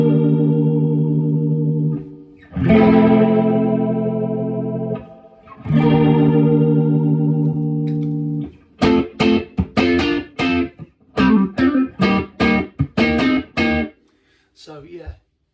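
An electric guitar through a modulation effects pedal switched to its fast speed: long warbling chords first, then rapid choppy strummed bursts with a swirling, wavering tone, loud and close.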